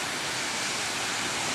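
Continuous rushing, splashing water close by, a steady broadband spray like a waterfall or ride drenching the area.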